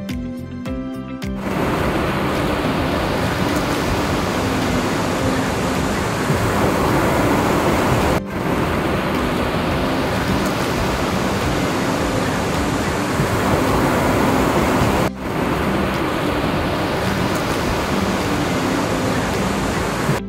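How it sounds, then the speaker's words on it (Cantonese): Strong sea waves on a 7-kilometre sandy beach at Shanwei make a continuous, loud, broad roar of surf close by, with no distinct separate crashes and no voices. "強烈嘅海浪拍打聲"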